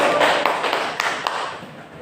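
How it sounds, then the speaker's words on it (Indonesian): Classroom students clapping for a presenter, a short burst of applause with a few distinct sharper claps standing out, close and fading quickly. "Beri aplaus untuk Mbak Puput."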